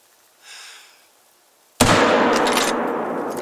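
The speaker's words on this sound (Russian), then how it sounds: "Ждем удобной позы, друзья, и будем производить выстрел." A rifle shot at a lynx in the hunting video game theHunter: Call of the Wild: a brief soft rustle, then an abrupt loud report with a long, dense rumbling echo that carries through the rest of the moment.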